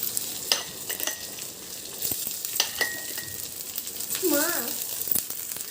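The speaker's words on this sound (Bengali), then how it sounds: "এবার দেখো আস্তে আস্তে ভাতগুলো দিয়ে দিচ্ছি" Cooked rice is added bit by bit and stirred in hot ghee for Bengali fried rice, giving a steady sizzle and frying crackle with scraping stirs, some clinks and a brief voice partway through.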